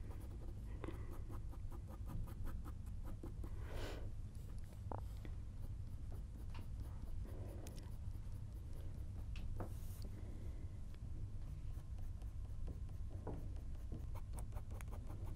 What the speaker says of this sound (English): I'm just going to make sure I focus this pen this side to darken it